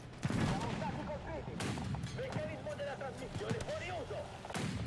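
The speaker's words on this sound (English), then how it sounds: "Keep sending shells." Cannon rounds fire repeatedly from an Italian M13/40 tank battling a T-26 in a tank video game, with sharp bursts punctuating a busy, dense battle mix of engine rumble and game effects throughout.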